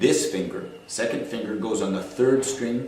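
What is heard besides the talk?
None of the usual background noises is heard.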